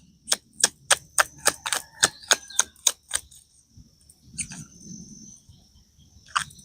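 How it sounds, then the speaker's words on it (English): A rapid series of crisp, evenly spaced clicks as small oracle cards are riffled, then a quieter pause with a few faint taps. "These little cards are hard to shuffle"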